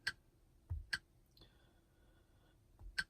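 Taps on a Jaguar F-PACE touchscreen while entering a name: a handful of sharp, quiet clicks spaced irregularly, with a soft electronic tone held briefly in the middle and no talking.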